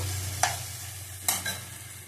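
Boiled mango being stirred and fried in a pan for a sweet-sour mango pickle, a steady low sizzle with two sharp scraping strokes of the spoon, close and without talk.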